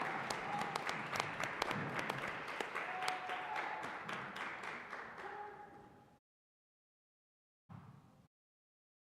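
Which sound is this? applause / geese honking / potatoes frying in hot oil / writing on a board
applause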